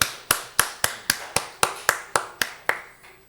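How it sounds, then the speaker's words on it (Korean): A congregation gives applause of thanks and glory at a church prayer service: about a dozen sharp, evenly spaced claps in a steady quick rhythm, close and crisp, with no talk. "우리 주님께 감사와 영광의 박수 한번 돌리겠습니다."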